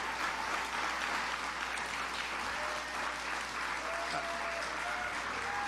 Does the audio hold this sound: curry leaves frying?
no